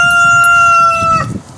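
Meat chickens in a pop-up chicken tractor make a loud, close, sustained tonal call that breaks off into a few clucks near the end.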